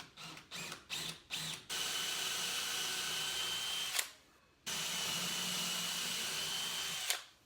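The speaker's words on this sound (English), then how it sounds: "I'm just gonna drill it." A power drill bores into an old wooden door in short bursts, then runs in two long steady whines, each ending with a brief rise in pitch, close and loud with no talk.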